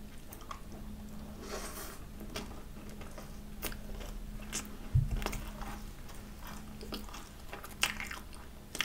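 Someone bites and chews a crispy, chewy fat macaron with a salty filling, up close, with soft crunches and squishy mouth sounds. A sharper bite lands near the middle, and there is no talking.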